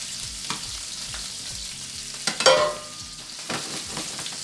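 Shrimp fry in olive oil in a nonstick pan with a continuous close sizzle and small pops. A brief clatter and scraping stir come midway, then the sizzle carries on alone.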